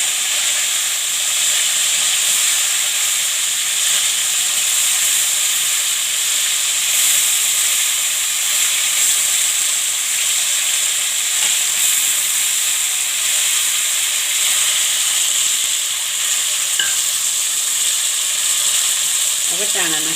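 Bottle gourd dropped into hot tempering oil with red chilli for a Gujarati cauliflower and gourd shaak sizzles loudly and steadily, a dense, even frying hiss that continues without a break for the whole stretch.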